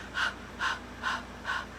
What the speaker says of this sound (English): A more panting breath can be a useful way to get things moving again